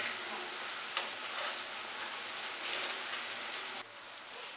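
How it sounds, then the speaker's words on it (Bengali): Curry paste sautéing in a pan for a hilsa fish head and taro stolon dish, a steady close sizzle with faint stirring scrapes and a brief quieter dip near the end. "ভালো করে একটু কষিয়ে নিই"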